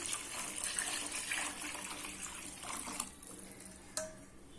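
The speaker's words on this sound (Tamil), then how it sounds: "அப்போ நாலு கிளாஸ் தண்ணி ஊற்றுறேன்" Steady rushing pour of about four glasses of water splashing into a cooking pot of rice for village-style tomato rice, continuous and fairly close, with a couple of light clinks near the end.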